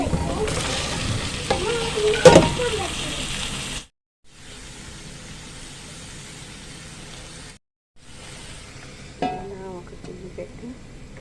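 Cut vegetables with coriander and curry leaves frying in a pan, a loud sizzle with stirring that drops away into a quiet hiss and briefly cuts out before the frying noise returns, with faint voice-like sounds in places.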